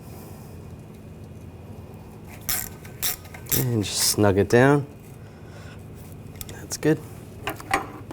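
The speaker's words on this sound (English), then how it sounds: "And just snug it down." A screw is snugged down to hold the rotor on a Buick Encore's rear hub during a wheel bearing job, with sparse light mechanical clicks and taps, interrupted by a short burst of speech.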